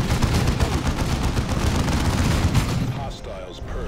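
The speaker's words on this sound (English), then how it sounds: "There's a machine gun over there." Rapid gunfire and explosions crackle throughout a Dawn of War 2 battle, a dense barrage of Space Marine combat that thins out near the end while voices speak over the din.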